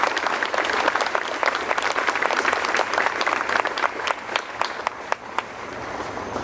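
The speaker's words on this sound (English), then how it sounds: "please give a warm round of applause to Villanova NROTC class of 2013" Audience applause for the Villanova NROTC class of 2013 at a fall review, dense sustained clapping from a large crowd, steady and fairly loud for several seconds.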